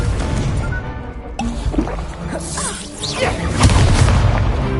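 A Confringo explosion spell in a video game lands as a deep, booming blast with whooshing, crackling debris, followed by a second swelling rumble toward the end, loud and close with no talk.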